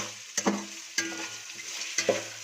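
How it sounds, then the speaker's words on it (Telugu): Ginger garlic paste being stirred and fried in a pan for veg pulao, three distinct scraping stir strokes over a soft steady sizzle, close and fairly quiet with no talking. "అది వేసుకున్న తర్వాత ఇలా బాగా మిక్స్ చేసుకోవాలి."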